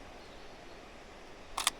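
A Canon EOS R mirrorless camera fires its shutter once, a short, crisp double click near the end after quiet room hiss.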